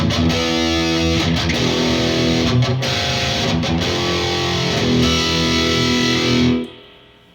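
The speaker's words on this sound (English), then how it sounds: "I wanted to set up my overdrive high gain sound using the Boss core, metal core." A heavily distorted electric guitar through a Boss ME-80 Metal Core setting, played into a Fender Deluxe Reverb '68, chugs and sustains chords loudly for several seconds before the final chord rings out and fades.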